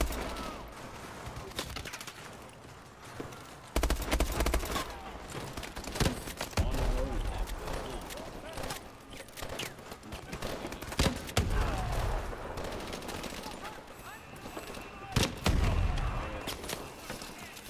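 Gunfire from futuristic weapons in the shooter Call of Duty: Advanced Warfare, scattered bursts and volleys of shots with thuds, loud and irregular, with someone talking over it.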